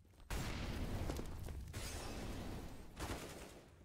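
An incendiary grenade lands and erupts in Counter-Strike on the Mirage map: a loud, sustained roaring burst of flame that fills the scene, then rises again in a second surge near the end, with no voices.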